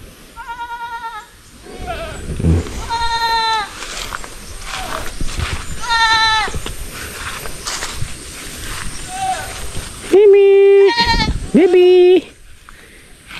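Farm goats bleat repeatedly nearby in loud, quavering cries, several calls overlapping with rustling and footsteps outdoors.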